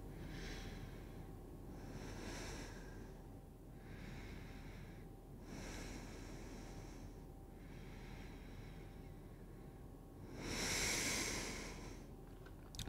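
Slow, deep breaths drawn in and sighed out during a yoga class, each soft airy breath rising and falling at a steady pace. A stronger, louder exhale comes near the end.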